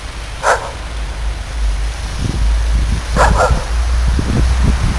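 Dogs bark outdoors in the first snow in Kaharlyk, with a single bark early on, then a burst of several quick barks a few seconds later, close by over steady wind and rustling.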